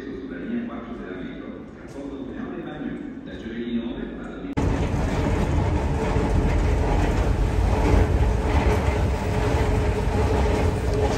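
A Paris Métro train runs with a rumbling, rattling roar that starts suddenly partway through and stays loud and steady. Before it, a quieter station ambience is heard, and a voice talks throughout.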